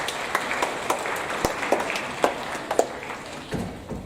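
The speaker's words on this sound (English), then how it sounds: "can we, members, give them a round of applause, please" Audience applause at an evening school honor society induction ceremony, a steady wash of many hands clapping with sharper individual claps popping through, sustained and fairly close throughout.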